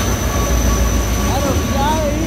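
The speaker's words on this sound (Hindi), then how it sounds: "ट्रेन आ रही है" A train pulls into a station, a steady broad rumble of wheels and carriages with faint brake squeals near the end, under people talking on a busy platform.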